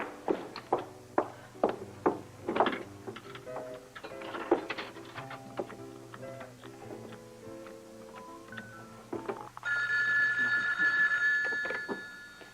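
A series of sharp clicks and taps leads into a 1981 telephone call, followed by a steady, continuous ringing tone that carries on at moderate loudness through the final few seconds, with no talking.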